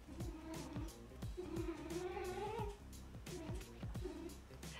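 A cat meows over and over, several drawn-out wailing calls close by, loud and insistent, mixed with a voice and other background noise.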